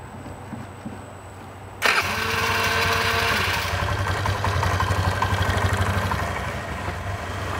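A Vespa ET4 scooter engine cranks over and catches abruptly, then settles into a steady, buzzy idle that carries on close by.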